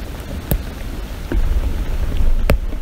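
Rain falls steadily on a lake during a fishing outing, a constant soft hiss with a few sharper drops or taps standing out, close and fairly loud, with no talk.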